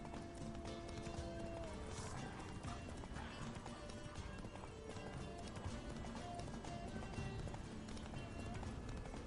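A horse gallops in The Witcher 3 video game, its hooves beating a rapid, steady clip-clop rhythm throughout, fairly faint and layered with game sounds.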